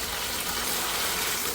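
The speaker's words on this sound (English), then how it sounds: "this leak just from this flow switch is going into someone's unit." Water leaking from a boiler's flow switch in a mechanical room, a steady hissing, splashing flow that runs close and continuous throughout with no talk.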